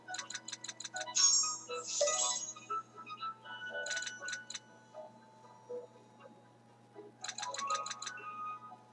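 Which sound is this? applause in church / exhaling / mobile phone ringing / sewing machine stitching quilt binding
mobile phone ringing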